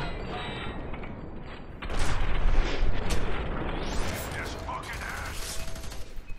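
A shotgun in the shooter game FEAR 3 fires with a loud burst and is then reloaded with mechanical clacks and creaks, amid ongoing game noise and heavy rumbling.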